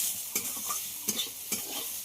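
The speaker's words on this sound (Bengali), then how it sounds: "সর্ষেটা দিয়ে হালকা একটু নাড়িয়ে নিতে হবে" White mustard paste fries in a pan for a bitter gourd and mango dish, with a bright continuous sizzle broken by three soft spatula stirring strokes.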